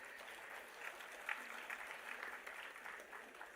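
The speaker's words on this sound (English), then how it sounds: "A round of applause, please." Faint, steady applause from an audience at a university day celebration, continuous clapping heard at a distance throughout.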